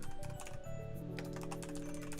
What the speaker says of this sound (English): Typing emoji.